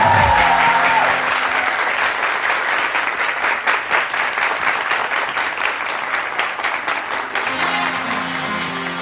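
A live audience at a Hindi-language stage event bursts into sustained applause, dense and steady clapping that fills the room, with a few faint voices mixed in.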